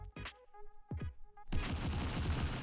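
A few sharp gunshots crack in Fortnite Mobile, then a dense burst of rapid automatic fire rattles on continuously, loud and close.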